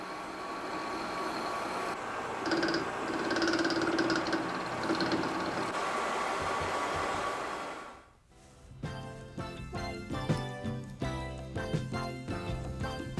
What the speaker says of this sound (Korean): 전함의 심장이라고 할 수 있는 엔진.